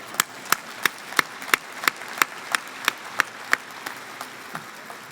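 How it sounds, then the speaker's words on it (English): A graduation audience claps in a slow, evenly spaced rhythm of sharp, distinct claps that ring out clearly, then gradually fade and thin toward the end. "Give yourselves a round of applause for that."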